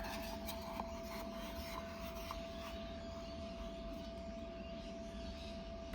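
Resin is scraped out of a container with a continuous, faint rasping and rubbing, steady and close, with a few small clicks.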